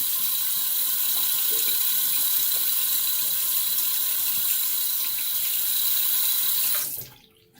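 Tap water runs steadily into a sink during rinsing after a shave, a continuous close hiss that stops abruptly near the end.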